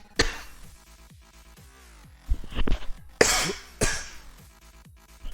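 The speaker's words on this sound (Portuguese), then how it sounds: "Não deu tempo de desligar o microfone antes de tossir" Several sharp coughs and throat clears land close to a microphone during a programming lesson, a few isolated bursts early on and a louder cluster near the end, with quiet room tone between them.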